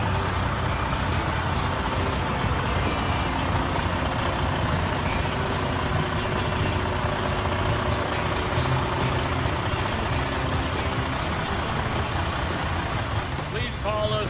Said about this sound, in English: Super low mile truck, still sounds new.